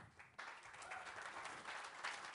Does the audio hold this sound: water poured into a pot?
no